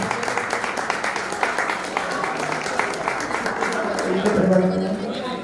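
An audience applauds for a donor family at a foundation-stone ceremony for a Jain temple under construction. The clapping is dense and continuous, with crowd chatter mixed in, and it swells slightly near the end.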